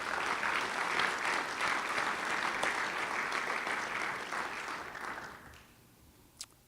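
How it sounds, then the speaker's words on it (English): A dinner audience at a Hall of Fame event applauds student musicians on bass, piano and sax, a steady wash of clapping that holds for several seconds, then thins and fades out, with one last sharp clap at the end. "give them a round of applause."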